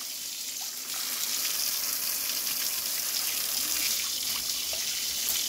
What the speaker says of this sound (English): Now shall I switch off the water?